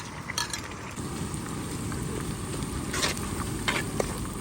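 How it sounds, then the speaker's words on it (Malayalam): Finely chopped shallots sautéing in a pan for a toddy-shop fish curry: a close, steady sizzle broken by a few sharp clinks and scrapes of a stirring utensil. "അപ്പോൾ നമ്മൾ കൊച്ചുള്ളി ഒന്ന് വാട്ടിയെടുക്കാം"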